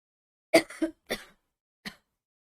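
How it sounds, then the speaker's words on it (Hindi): A person coughs in a short burst of two or three hacks, pauses, then gives one more cough, close and alone. "फिर से खांसी चढ़ गई।"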